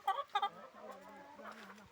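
A chicken gives two quick, close clucks, followed by softer low murmuring sounds fading out.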